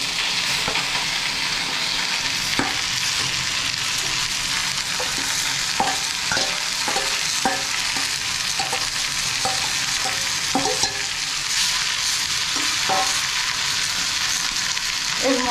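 Greens hiss and crackle as they fry in oil with onion, garlic and dried red chili, a steady loud sizzle broken by repeated clinks and scrapes of stirring.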